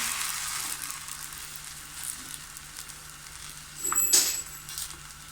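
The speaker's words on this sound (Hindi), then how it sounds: "फ्रोज़न पराठों के लिए अब मैं सादे वाले पराठे को इसी तरह सेक लूँगी।" A plain paratha roasts on a hot griddle pan with a steady, soft hissing sizzle. Near the end there is a brief louder crackle and a light metallic clink.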